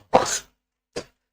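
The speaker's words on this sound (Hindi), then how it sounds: "खांसी थोड़ा सा हो गया है, इसके लिए क्षमा चाहता हूं।" A man gives two coughs, a longer harsh one followed by a short, softer one after a brief silence, close to the microphone in a quiet room.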